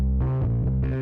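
A dry bass track, already lightly processed, sounds alone for about a second: a few close, sustained low notes with a slightly gritty edge, steady and full.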